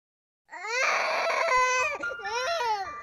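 Infant crying loudly and close by, a sustained high wailing cry that breaks briefly and resumes with rising and falling pitch, with no other sound around it.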